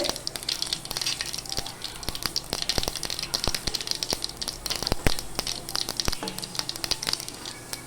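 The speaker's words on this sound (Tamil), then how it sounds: "கடுகு பொறிஞ்ச உடனே கொஞ்சம் பொரியட்டும் கடுகு" Mustard seeds spluttering in hot oil, a dense crackle of rapid sharp pops and snaps over a continuous sizzle, close and fairly loud with no talking.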